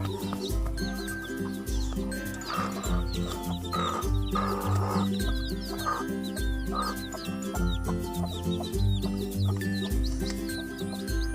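Chickens and young chicks cluck and peep repeatedly at close range over a steady, rhythmic low thumping that continues throughout.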